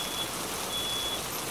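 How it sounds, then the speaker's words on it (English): A fire alarm goes off indoors after fish sticks burned in a home kitchen: a thin, high electronic beep sounding in a steady stretch over a hissy background, with no talking. "Fire alarm, hang on."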